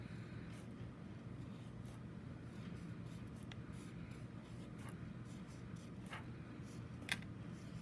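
Crayon, marker or colour pencil writing a word on paper, giving faint scratchy strokes with a few sharper taps, close and quiet with no talking.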